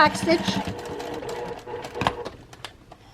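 Sewing machine back-stitching a narrow casing for elastic on a lined face mask, a short close burst of stitching mixed with a voice talking over it.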